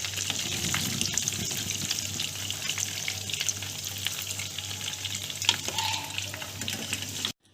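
Chicken momos deep-fry in hot oil as they are turned, a steady crackling sizzle with soft stirring scrapes and one brief clink, and no one speaks.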